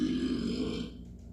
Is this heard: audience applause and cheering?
no